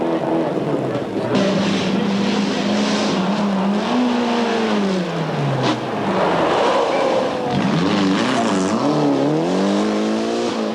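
A turbocharged four-wheel-drive Proton Wira rally car, number 6, roars past at a 1994 Malaysian rally, its engine note rising and falling steadily through gear changes, loud and close throughout.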